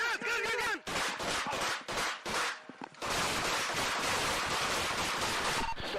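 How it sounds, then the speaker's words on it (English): Gunfire erupts during a police encounter with an armed suspect: a dense, loud barrage of sharp, rapid shots that runs on in a near-continuous roar after a few broken bursts, with shouting voices mixed in early on. "Shots fired."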